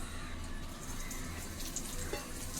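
Mustard and fennel seeds fry in oil in a hot pan for a prawn gravy, giving a steady, even sizzle that runs throughout at moderate loudness.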